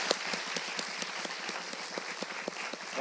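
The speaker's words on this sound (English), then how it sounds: "how about a round of applause for all the kids that are in YouthLink over the years" Sustained audience applause honoring the children of the YouthLink program at its 26th anniversary event in 2016: dense, steady clapping from a large crowd, fairly close and even in loudness throughout, with no voices over it.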